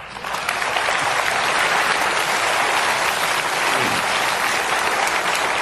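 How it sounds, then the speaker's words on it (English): Audience clapping at a goal-setting training seminar, a dense, even burst of applause that holds at a steady loud level for several seconds without talk. "Give them a clap"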